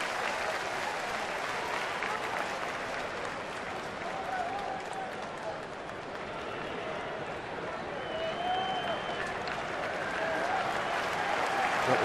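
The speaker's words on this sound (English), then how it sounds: "Listen to the crowd." A large crowd at a major league baseball game, San Francisco at Pittsburgh, cheers and applauds in a sustained, broad roar that swells slightly near the end, with faint voices mixed in.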